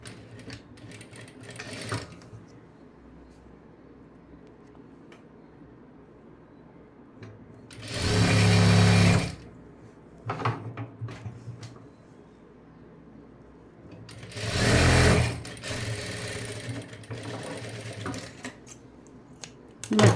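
Sewing machine stitching a folded fabric strap in two loud, sustained bursts of rapid mechanical whirring, each about a second and a half long, separated by quiet handling clicks and rustles.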